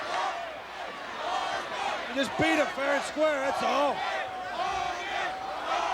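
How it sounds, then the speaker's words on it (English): A capacity wrestling crowd at CNE Stadium in Toronto roars and surges in waves of boos and shouts, loud and dense, under an announcer's voice, with a sharper swell of crowd noise midway. "Listen to this capacity crowd."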